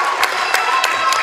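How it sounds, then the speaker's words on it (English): Crowd applause for senior players at a girls' high school basketball game, a steady wash of clapping with a few sharper bursts, loud and continuous through the whole short stretch. "So the seniors get their last applause for the seniors."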